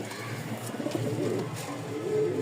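A pair of Danish pigeons coo close by, the male courting the female, with soft repeated throaty coos over faint background noise.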